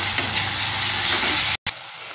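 Spice masala with green chili frying in a pan, a loud, steady sizzle and hiss close by that runs unbroken for a moment, cuts out briefly, then resumes.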